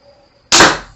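Crossbow fired once at close range, a sharp loud snap of the string and limbs releasing after a quiet moment, then a short fading twang.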